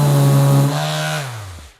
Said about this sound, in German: Du hörst, er wird ein bisschen langsamer und dann kommt das Schleifgeräusch dazu